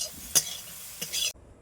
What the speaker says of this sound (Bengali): এবার আমি নাড়াচাড়া করে ভালোভাবে লাল লাল করে ভেজে নেব।